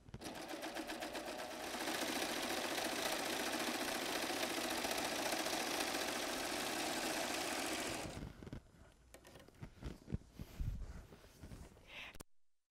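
Baby Lock serger sewing a wave stitch with automatic thread delivery that changes stitch length, running as a fast, steady mechanical whir for about eight seconds before stopping, followed by soft handling clicks and rustles.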